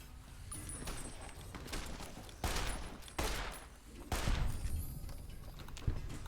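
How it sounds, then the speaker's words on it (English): Gunfight in Fallout: New Vegas in the town of Goodsprings, with repeated sharp shots at uneven intervals over steady game ambience and faint background sound. "why are you shooting me?"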